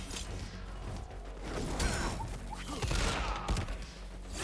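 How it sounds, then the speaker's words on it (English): Grenades bursting during a Mortal Kombat 1 fight, a dense, noisy stretch of blasts, whooshes and impacts that swells and stays loud throughout, with no talking on top. "the grenades coming in from behind to cover the teleport"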